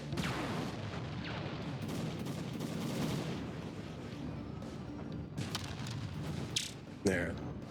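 Turret gunfire in the MetalMercs video game comes as rattling mechanical bursts and dull thuds over a rumbling battle background, with a few sharper impacts toward the end.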